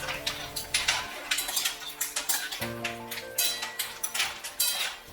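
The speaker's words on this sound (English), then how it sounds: "Keep stirring." Clams being stirred in a white wine sauce in a pan for clam pasta, with steady clinks and scrapes of shells and a utensil against the pan in an uneven rhythm, close and moderately loud.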